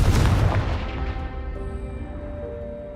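A Confringo spell explosion in a video game lands as a single loud, close boom with a fiery burst, then fades into a lingering rumble and a faint ringing tail.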